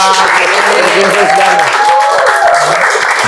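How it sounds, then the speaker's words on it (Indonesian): Lively applause breaks out from an audience at a Jakarta police event on food security, continuous, loud and close clapping, with someone speaking over it. "tepuk tangan yang meriah buat"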